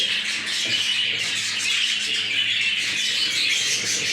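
Budgerigar chicks being handled and moved into a separate cage chirp continuously in a dense, close, high-pitched chatter with no pause.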